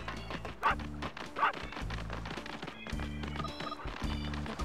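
Barks from a robotic dog in the N64 game Space Station Silicon Valley, two sharp yelps standing out over a looping synthetic game soundtrack with a steady bass pattern and bright melodic tones.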